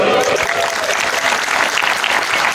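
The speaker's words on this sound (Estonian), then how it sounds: "Nii, teile Kalmer aplausi!" Dense, loud applause from an audience at a women's day football festival, steady clapping filling the whole stretch with crowd noise and no break.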